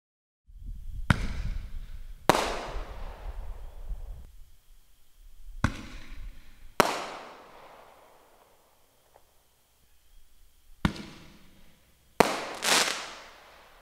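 Black Cat Bag 12 Shot consumer firework launching shots, loud sharp booms spaced a second or two apart with crackling tails, some pairs close together, outdoors with no talk.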